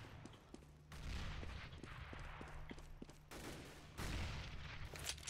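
Gunfire in Counter-Strike: Global Offensive on the Nuke map, a few sharp shots and bursts over a constant game background, with sudden loud onsets around the middle and end and no talk.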